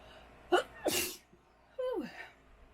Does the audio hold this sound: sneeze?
yes